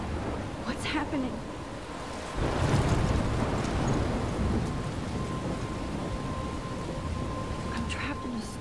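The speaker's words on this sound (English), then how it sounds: "I'm trapped in a storm?" A thunderstorm in the video game Life Is Strange: dense, continuous rain with a deep rumble swelling near the middle, steady and close throughout.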